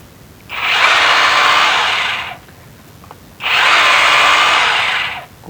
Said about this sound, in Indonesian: Kita coba lagi, bor lagi di sini.